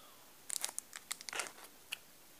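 Packaging being torn and crinkled while a Pokémon card box is opened, a burst of close, sharp crackles and rips in quick irregular clusters, with one last crisp snap after a short pause.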